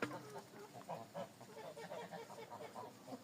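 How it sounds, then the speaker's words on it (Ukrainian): White Muscovy ducks of a heavy line, kept in a farmyard, give soft low hisses and muttering calls in an irregular, steady stream, close by and moderately loud. "у нас тут наші білі індокачки"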